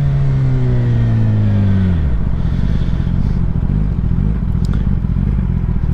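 A 1000cc supersport motorcycle under way, its engine note dropping in a smooth falling sweep over the first two seconds, then settling into a steady, loud rumble mixed with road and wind roar.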